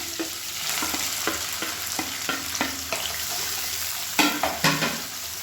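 Chopped onions, curry leaves and green chillies frying in hot oil, a steady sizzle broken by regular scraping strokes of a spoon stirring the pan.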